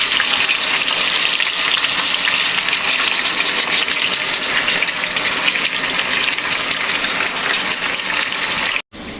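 Chicken for Arabian mandi sizzles as it roasts in a pan, a loud, steady frying hiss that runs unbroken throughout with no talk.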